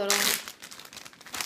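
A gallon-sized plastic bag crinkles loudly for a moment while Korean bulgogi is prepared, with quieter rustling and handling continuing faintly afterward in a kitchen.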